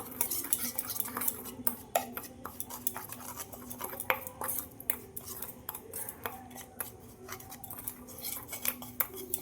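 Cut eggplant pieces being mixed with a spoonful of oil in a bowl for a spiced eggplant dish, giving a steady run of close, light clinks and scrapes of utensil against bowl, with no talking.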